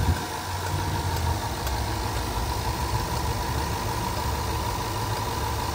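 A 2012 Range Rover HSE Sport's automatic 5.0 liter V8 idles with the hood open, a steady, even rumble with a low throb throughout and no talk.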